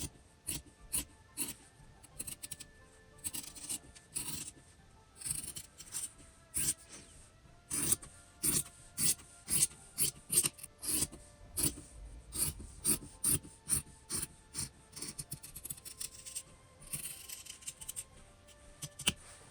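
Scissors snipping through a paper dog-dress template, a long series of crisp, close cuts in uneven bursts with short pauses, rasping and steady, no talking.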